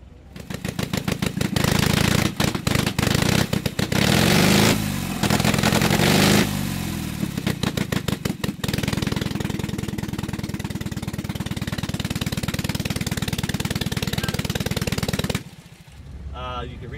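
Motorcycle engine revs in sharp bursts, then settles into a loud steady idle for several seconds before cutting off, close to the listener.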